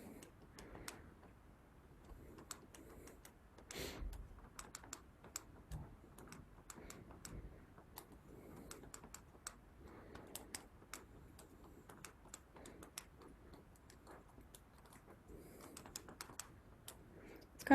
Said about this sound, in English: I'm going to put those numbers in my calculator as well